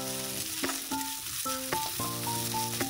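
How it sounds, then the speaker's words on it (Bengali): Carrot, cabbage and chopped chilli stir-fried for chicken chowmein crackle in a hot pan, a steady close sizzle broken by repeated stirring scrapes, with a light musical tone playing underneath. "তো লঙ্কা কুচি দেওয়ার পর আমি আবার একটু সব কিছু ভালো করে ভেজে নেব।"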